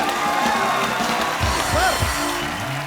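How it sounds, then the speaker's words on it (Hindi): Studio audience applause at a Hindi comedy talk show, a steady wash of clapping that fills the whole moment, with a few sweeping musical tones rising over it partway through. "जोरदार तालियां"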